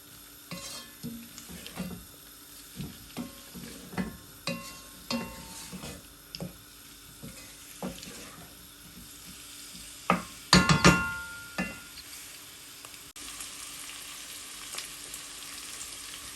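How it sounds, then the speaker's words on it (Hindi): Garlic paste and chicken jalfrezi ingredients fry in a pan with a soft continuous sizzle, punctuated by regular spoon scrapes and clinks against the metal, including a louder clatter near the end. "थोड़ा सा 1-2 मिनट के लिए फ्राई करेंगे"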